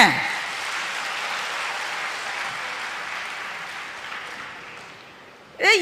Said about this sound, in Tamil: இவ்வளோ கம்மியாக கைதட்டுறீங்க